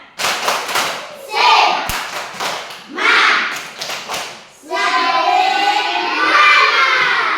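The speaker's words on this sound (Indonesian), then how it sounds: "Oke, kita tepuk semangat." Children in a classroom clap rhythmically in short bursts with shouted calls, doing the 'tepuk semangat' class clap, then break into a longer stretch of brisk clapping, all loud and close.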